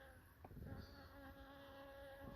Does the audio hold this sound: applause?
no